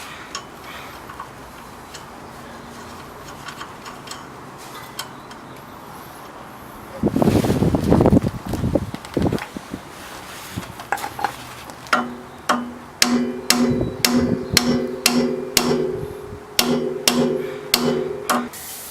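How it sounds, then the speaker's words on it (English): A hammer taps a bolt through a steering knuckle during a CV axle change, a run of sharp metallic taps in a steady rhythm after some clattering handling, close by with no talk. "And now I can tap the bolt through"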